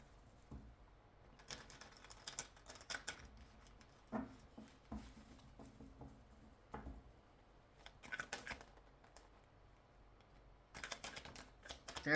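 Tarot cards being shuffled by hand in short, soft riffling bursts separated by quiet pauses, close and faint with no talking.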